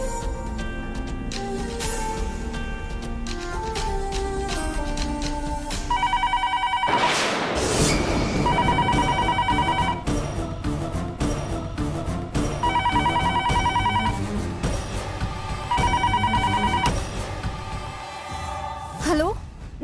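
An outgoing phone call's ringback tone repeats about four times in evenly spaced bursts over soft background music in a Telugu TV serial scene.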